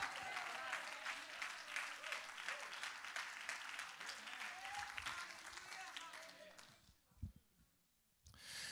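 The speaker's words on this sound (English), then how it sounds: "would you clap your hands unto the Lord?" Congregation clapping hands during a Pentecostal church service, a fairly quiet, continuous patter of many hands mixed with voices that fades out near the end, followed by a brief bump and a short pause.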